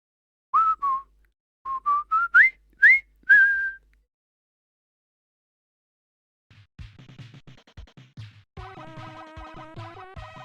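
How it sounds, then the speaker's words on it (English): A person whistles a short tune in clear, bright, close phrases for a few seconds, followed by silence and then a separate busier mix of tones and low thumps. "Dogs reacted to my whistling."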